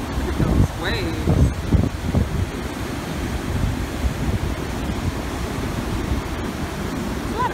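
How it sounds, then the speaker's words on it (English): Ocean waves rolling onto a beach after a hurricane, a steady roaring wash with wind buffeting the microphone and faint voices mixed in. "Look at those waves."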